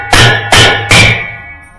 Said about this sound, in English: get you a hammer on the opposite side of this, pull up on the tub and tap the block